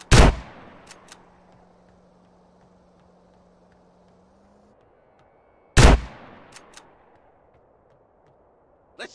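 Two sharp, loud gunshots sound in GTA San Andreas Definitive Edition, several seconds apart. Each one booms and echoes away, with faint clatter after it and a low engine hum between the shots.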